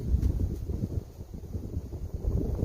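Steady low outdoor wind rumbles and buffets a microphone on a disc golf course in Pennsylvania, a continuous broadband roar that swells and eases without pause, with no talking.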